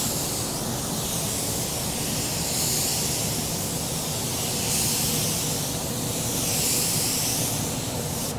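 A spray gun lays down a final coat of paint in one continuous, close, loud hiss that swells gently in waves as the gun sweeps back and forth.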